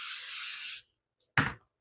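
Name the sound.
cooking spray sprayed into a casserole dish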